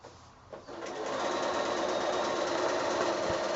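A sewing machine runs a straight stitch along the edge of quilting fabric for a child's bedding set, starting after a brief pause and then humming and whirring steadily and close at a constant speed.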